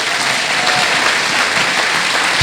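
A church congregation claps together in loud, dense, continuous applause for a couple of seconds.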